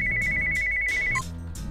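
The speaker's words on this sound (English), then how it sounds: "Wait, I think my phone's ringing." A mobile phone ringtone plays as a steady electronic tone for over a second, close and clear, then cuts off with a short beep, over faint background noise and light movement sounds.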